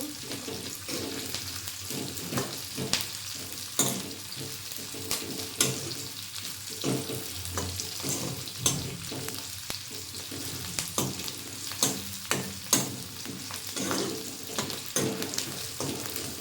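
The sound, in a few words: chilies and onions frying in a pan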